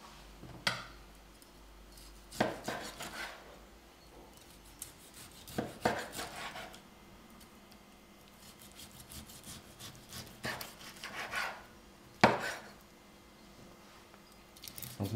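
A knife slices through cooked, rested duck breast (magret) on a board, a series of quiet, separate cutting crunches and taps spaced apart by short pauses in a calm room.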